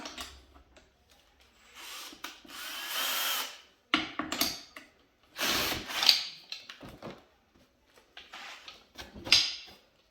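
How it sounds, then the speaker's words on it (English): A cordless drill whirs in several short bursts with pauses between, close by, alongside clicking and ratcheting as the chuck is tightened onto a pin for spin art. "get it in nice and tight, tighten your chuck up"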